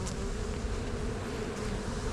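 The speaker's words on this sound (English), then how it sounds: "And you see that mass of bees moving down in there." Honey bees swarming around a hive while a package of bees is installed, a dense continuous buzzing hum close by and steady throughout.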